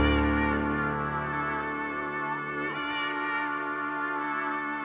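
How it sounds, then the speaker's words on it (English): Keyscape piano layered with the main melody of a dark, aggressive FL Studio beat, bright sustained tones with a shift in the notes midway, heard alone at a low level. "And the main melody and the piano together sound like this."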